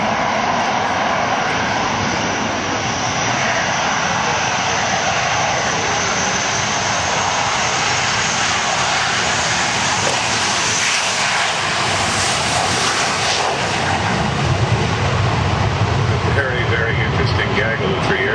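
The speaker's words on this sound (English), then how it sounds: "Gaggle of three aircraft there." Hawker Hunter jets in a group of three passing at an airshow, a loud, sustained engine roar filling the whole stretch with a steady broadband rush, with crowd or commentary noise faintly underneath.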